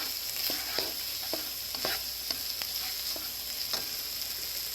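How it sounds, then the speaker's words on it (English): Shallots and garlic sauté in a pan over medium-high heat, a steady close sizzle broken by several sharp scraping stirs of a utensil against the pan, with no talking. "And I'm gonna add my shallots and my garlic. Okay, I'm gonna saute that for about a minute."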